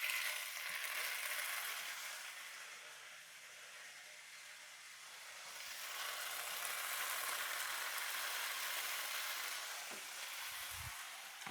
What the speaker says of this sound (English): we're just going to toss those right in this hot frying pan.